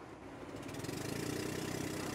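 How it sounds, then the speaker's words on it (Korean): Steady droning motor of a tourist boat cruising on Tonlé Sap lake in Cambodia, a loud, continuous mid-low engine rumble that builds slightly and holds, with no voices. "실제로는 배 모터 소리가 귀를 막게 할 정도로 시끄러웠는데요"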